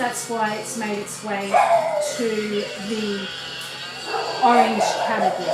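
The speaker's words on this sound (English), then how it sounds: "you can hear the dogs going off" Several dogs barking and yipping outside in repeated bursts, heard clearly behind a person talking indoors.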